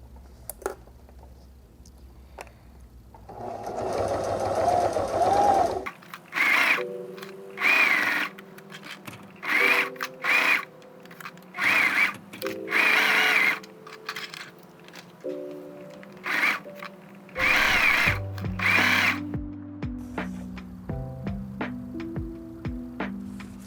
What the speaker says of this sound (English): we're going to do some straight stitching down these ends, the sides of my fabric piece